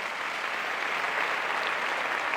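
Steady, full applause from an audience at a magic show, an even wash of clapping that holds for the whole stretch.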